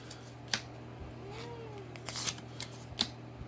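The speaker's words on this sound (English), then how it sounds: "Apparently my cat told me no." A house cat gives a faint, drawn-out meow in the middle of a trading-card pack opening, nearly buried under the crisp rustle and clicks of cards and wrappers being handled nearby.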